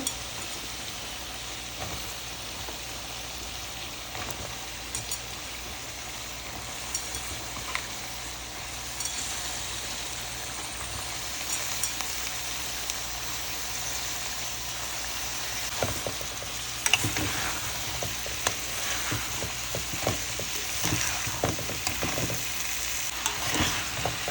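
Green beans sautéing in a hot pan for a bean and potato soup with garlic powder, a steady sizzle with scraping stirs that grow busier in the second half.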